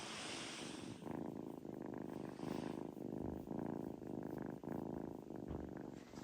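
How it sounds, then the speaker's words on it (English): Nala the cat purring close up on a family homestead, a steady, rhythmic low rumble pulsing in even breaths, soft and alone with no talking. "Get close, you'll be able to hear the purring."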